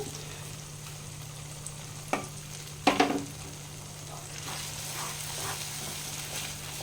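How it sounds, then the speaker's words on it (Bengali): Ground melon seed and cashew paste frying in a pan, with a low continuous sizzle and a few sharp scraping knocks as it is stirred. A steady hum runs underneath the whole time. "এটা একটু ভেজে নিতে হবে ভালোভাবে এইভাবে নাড়াচাড়া করে একটু"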